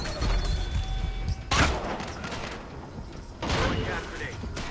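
A frag grenade blast in the Splinter Cell Blacklist video game: two sharp booming bursts about two seconds apart, each decaying into a rumbling tail over steady game background noise.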